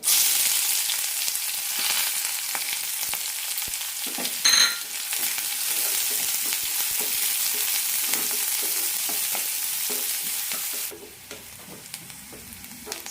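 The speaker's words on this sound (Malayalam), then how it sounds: "കടുക് പൊട്ടിക്കഴിയുമ്പോൾ സവാളയും പച്ചമുളകും ഇടാം" Onions and green chillies frying in hot oil after mustard seeds have popped, a steady close sizzle with occasional stirring clatter, ending in a quieter simmer.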